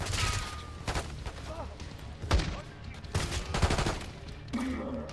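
Gunfire in the Call of Duty Black Ops 6 campaign, with repeated loud bursts and single shots cracking in quick succession over a combat soundscape, with voices shouting orders in between.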